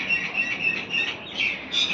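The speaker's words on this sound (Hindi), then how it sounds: "सो गाइस, बाहर एक चिड़िया है," A bird chirps outside a house in repeated high, thin calls, moderately near and heard alone against light background noise.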